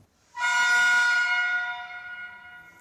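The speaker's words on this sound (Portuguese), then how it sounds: "foi o espectro de pressão sonora captado por um microfone dentro dessa sala de uma corneta, né, de um brinquedo" A toy horn sounds once in a room, a bright, buzzy tone that blares loudly, then slowly fades as it trails off over a couple of seconds.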